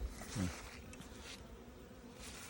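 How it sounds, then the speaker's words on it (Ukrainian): Honeybees fly weakly at a hive entrance in August, giving a faint, steady buzzing hum close by with no talk. "Слабенько літають бджілки. Отак стоять, на прильотах"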